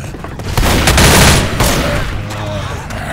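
Loud, close gunfire fills a Left 4 Dead match, rapid overlapping shots with heavy booms peaking early and then easing into a steadier rattle, with game noise underneath.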